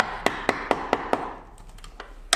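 Wood chisel struck with a mallet while cutting a mortise, giving a quick run of five or six evenly spaced sharp taps, then a pause with a couple of softer knocks and one last crisp hit.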